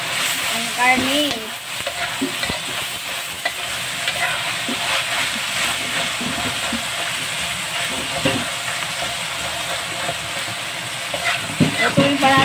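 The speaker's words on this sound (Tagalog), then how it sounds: "Nagisang-gisa na talaga yan." Meat sautéing in a pan for sweet-spicy Filipino bihon, a steady close sizzle and frying hiss with occasional stirring clatter and scrapes throughout, no talking.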